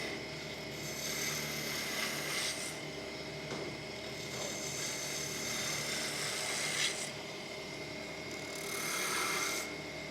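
Woodturning gouge cutting into a spinning workpiece on a lathe during a demonstration of turning a cup, giving a steady raspy scraping with repeated surges of cutting strokes, close and continuous, no talking.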